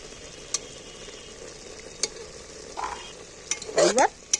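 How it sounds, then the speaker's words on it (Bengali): Potatoes with spices are stir-fried in a pan; a low background sizzle is punctuated by a few sharp spatula scrapes and clinks, the last ones bunched close together near the end. "ভালো করে কষিয়ে নেবো"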